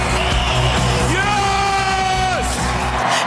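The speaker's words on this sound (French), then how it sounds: "les acclamations de la foule" A large crowd yells, whoops and bellows in a loud, continuous roar for an entrance, with individual drawn-out shouts rising and falling above the mass of voices.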